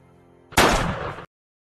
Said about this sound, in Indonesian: Bunyi tembakan itu menarik perhatian semua orang termasuk Frank